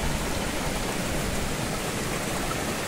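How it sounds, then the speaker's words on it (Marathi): Water falls steadily from a gomukh spout at a hillside temple, fed by a river coming down from the mountains, making a continuous broadband rushing splash that stays close and even throughout with no pauses. "आपल्याला या गोमुखातून पाणी पडतंय"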